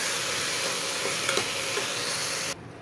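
Finely chopped medium tomato being stirred into a hot pan for aloo kalonji, a steady loud sizzle with faint scraping of the spoon, dropping off abruptly near the end.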